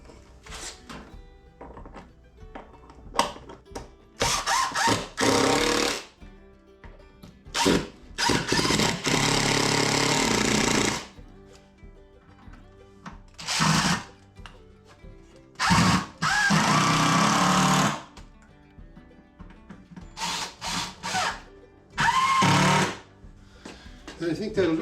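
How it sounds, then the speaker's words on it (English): Power drill driving a screw down through a workbench top, in repeated short whirring bursts and a few longer runs, close and loud, separated by quiet gaps and spoken talk. "I'll put a screw down through the top to secure that"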